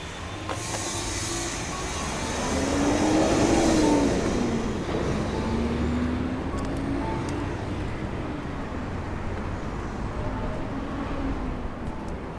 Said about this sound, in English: this is a station for the linimo, the magnetic train. You might be able to hear it.